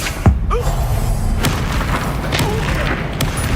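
Confringo spell blast in the Hogwarts Legacy video game, a single loud booming thud near the start that settles into dense, rumbling game ambience.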